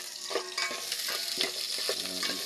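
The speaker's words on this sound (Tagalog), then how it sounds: "Lagyan natin yung sibuyas." Onion frying in a pan, with a bright crackling sizzle and the scrape of stirring in short bursts, close and clear with no talk over it.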